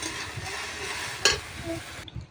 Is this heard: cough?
no